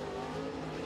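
A crate race car with an Eagle Race Engines motor in an XR1 Rocket chassis runs a qualifying lap at Crossville, its engine holding a steady, droning wide-open roar as it heads into a turn.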